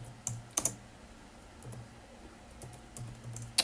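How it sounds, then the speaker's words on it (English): Scattered keystrokes and a few sharper clicks on a computer keyboard during a trading chart tutorial, sparse and close with pauses between short bursts over a low steady hum. "Let me just type here"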